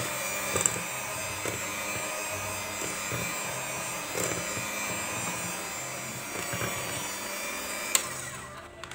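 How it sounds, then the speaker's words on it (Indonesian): An electric hand mixer runs at low speed through pandan sponge cake batter, giving a steady, moderately loud motor whir with faint clicks and scrapes against the bowl, and no talking. "Kemudian mixer dengan kecepatan rendah sampai tercampur."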